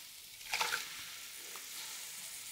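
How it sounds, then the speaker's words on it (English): Canned tomatoes tipped into pinto beans in a pan and stirred, giving a short burst of wet sizzling and scraping around the half-second mark, then a low, steady frying hiss. "And then I'm going to add in my canned tomatoes"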